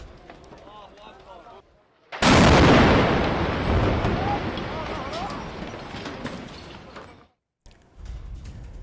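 A missile strike on a multistorey residential building in Beirut, one sudden loud blast followed by a long roaring rumble and crackling debris that slowly fades, with voices heard before and after.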